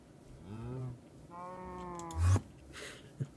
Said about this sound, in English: Did that cow say no?